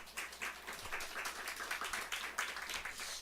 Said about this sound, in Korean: 박수 치시면서.